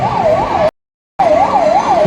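A high-speed Chiranjeevi ambulance at a Republic Day event in Sumerpur wails with a loud, close, rapidly rising-and-falling siren, cutting out briefly to silence before resuming with the same steady sweep.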